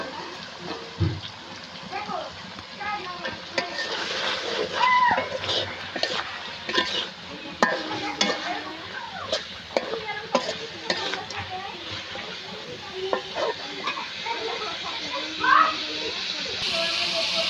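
Fish goes into a spiced masala for a bottle gourd and fish ghonto and fries while being stirred in the pan. Close, irregular scraping and clattering over a sizzling hiss are heard, with a voice talking intermittently.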